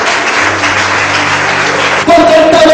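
Church congregation applause swells into loud, dense clapping after a brief dip, with a steady tone and some voices mixed in.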